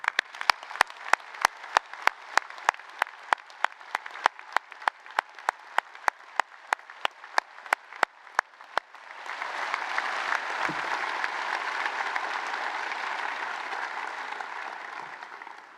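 A graduation ceremony audience at Leeds Law School, Leeds Beckett University: evenly spaced sharp claps ring out for several seconds before a full, dense wave of crowd applause takes over and holds steady.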